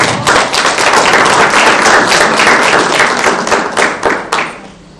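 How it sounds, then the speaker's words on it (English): A large audience at a conference opening ceremony claps in sustained, dense applause that fades out near the end, heard close and loud with no talking over it. "we give a big round of applause"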